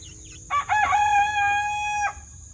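A rooster crows once, a loud, close call with a short rising start and a long held note, heard alone over a low hum in a backyard chicken setting.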